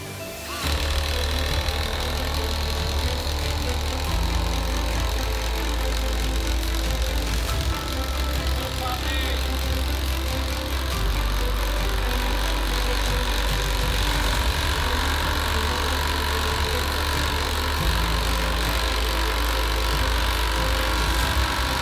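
A cheap Amazon power drill runs continuously under load, giving a loud, steady motor whine and drone without a break.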